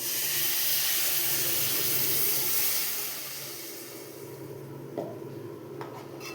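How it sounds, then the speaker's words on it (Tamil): Coconut milk pours into a hot pan of tamarind curry with a loud sizzling hiss that settles to a softer simmer, followed by a faint clink. "1 டம்ளர் தேங்காய் பால் ஊற்றிக்கிறேன்"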